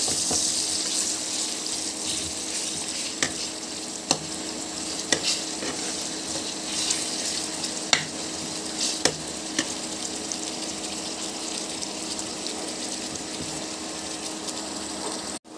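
Onions frying with ginger and garlic as a utensil stirs them, a steady close sizzle with scattered scraping taps and clicks throughout, no voices.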